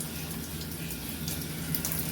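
A bathroom tap runs in a steady, close stream while someone brushes their teeth, continuous and unbroken with no speech.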